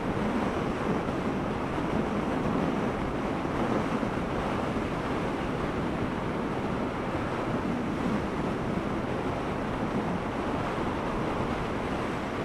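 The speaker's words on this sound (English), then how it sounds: "Definitely a little bit windier" Steady, loud broadband wind roar buffets past a rider on a Triumph Street Scrambler motorcycle, filling the whole stretch with continuous gusting rush and no voices.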